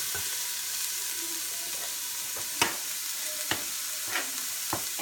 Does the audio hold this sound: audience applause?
no